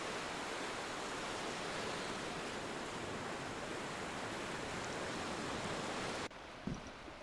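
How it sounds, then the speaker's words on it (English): Ocean waves play as ambience on a park ranger video game's loading screen: a continuous, even wash of surf that cuts off abruptly near the end, leaving a quieter hush. "At least we got the sound of the ocean."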